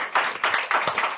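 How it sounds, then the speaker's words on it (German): Applause from a small audience at a live German nerd-culture stage show, greeting a guest. A few hands clap in distinct, fairly even bursts, close and moderately loud, with no talking over them. "Einen kräftigen Applaus"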